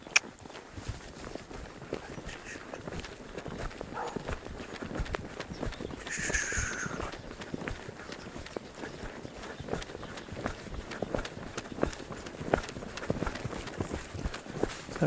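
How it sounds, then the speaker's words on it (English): A mare trots over wet, slippery ground, producing a steady rhythmic patter of hoofbeats, moderately close and fairly quiet, with a brief breathy snort midway. "We'll just do a little trot and see what happens."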